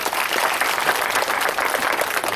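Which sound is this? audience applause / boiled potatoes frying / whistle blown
audience applause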